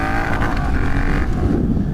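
A 2018 Triumph Bonneville T120 fitted with pod filters, Moto X-pipe and reverse cone mufflers revs loudly up close, its throttle rising in a rumbling growl before easing back.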